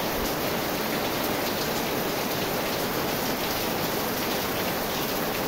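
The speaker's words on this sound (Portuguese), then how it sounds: "Que chuva maravilhosa." Heavy rain pouring onto potted cactus and succulent plants, a dense, constant pattering hiss that stays loud and even throughout.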